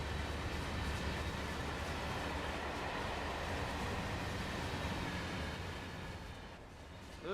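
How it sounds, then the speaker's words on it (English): A long freight train passes in the Train Sim World 4 railway simulator, with a steady, dense rumble of rolling wagons and wheels that fills the whole stretch and barely changes. "Look at the size of this freight train,"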